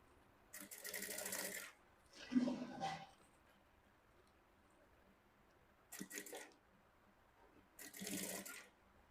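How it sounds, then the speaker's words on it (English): Sewing machine stitching down the waistband of Ankara fabric shorts with box pleats, running in four short bursts separated by pauses, fairly close and moderately loud with no talk. "So I'm sewing down gently."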